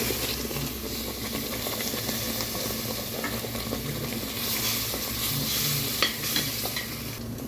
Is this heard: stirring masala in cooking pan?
yes